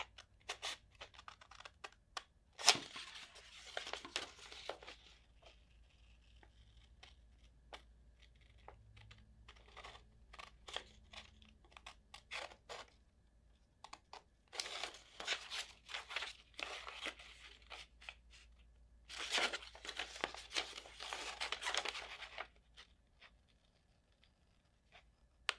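Paper being cut into an angle shape with scissors, producing quiet, irregular snips and crinkly rustles in bursts, with louder clusters of cutting near the end and no talking.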